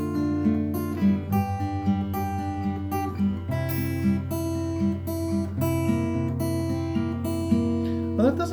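Strummed guitar plays simplified chords of a song in an open position without a capo, a moderately quiet, evenly paced rhythm of ringing chord strikes.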